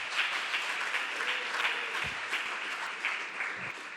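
A church congregation applauds after a sermon, a steady wash of many hands clapping that sounds moderately close and continues throughout with a few low thumps.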